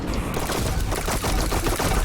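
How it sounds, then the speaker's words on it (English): Rapid automatic weapon fire from the video game Neon White, a dense, continuous burst of loud gunshots filling the whole moment without pause. "taking out these enemies from a distance with these automatic weapons"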